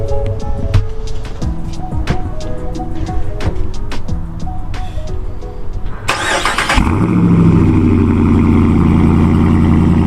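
Clicks and clatter come first, then a Ram 2500 pickup truck engine with a Borla S-Type aftermarket exhaust cranks and catches with a burst, settling into a deep, loud idle.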